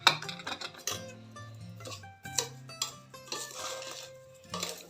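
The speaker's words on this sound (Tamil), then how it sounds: "நல்லா கலந்து விட்டுக்கலாம்." Sugar stirred into hot black kavuni rice porridge in a metal pot, with a spoon knocking and clinking against the pot sides in quick, irregular bursts that ring briefly, with no talking.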